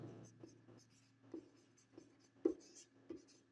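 A pen writes on paper in short strokes, soft scratchy scrapes coming in an uneven rhythm, close but faint.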